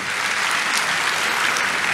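A church congregation bursts into dense, lively applause during a sermon, a brief continuous wash of many hands clapping together.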